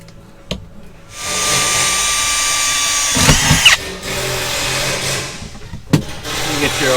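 A power drill whines steadily for about two seconds as it bores into a car body panel on a 1955 Bel Air, then stops; a few clanks and thumps of handling follow nearby.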